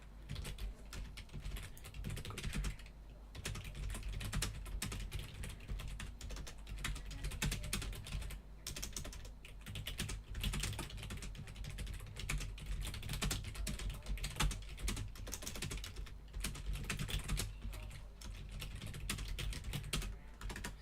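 Steady, fast typing on a computer keyboard, a continuous run of close, quiet key clicks with brief pauses and no talking.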